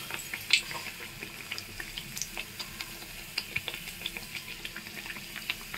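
Ariselu, Telugu rice-flour sweets topped with white sesame, fry in hot oil with a steady close bubbling sizzle and scattered sharp pops throughout.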